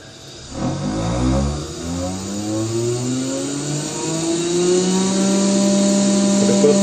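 Laboratory centrifuge spinning a tube up toward 13,000 G, a steady motor whine rising in pitch as it accelerates, loud and continuous with no talking.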